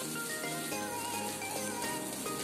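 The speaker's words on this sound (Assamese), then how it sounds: "সেই একেখিনি তেলতে মই দিছোঁ হিংখিনি আৰু লৈছোঁ ইয়াতে কেইখিলামান নৰসিংহ পাত" Asafoetida and a few curry leaves frying in oil for an Assamese kundru (ivy gourd) chutney, giving a steady close sizzle with faint crackles throughout, no talking.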